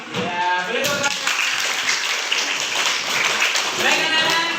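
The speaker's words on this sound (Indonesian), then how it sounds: "boleh tepuk tangan." Children in a classroom clapping together, a dense burst of applause that starts after some speech and carries on steadily, with voices mixed in.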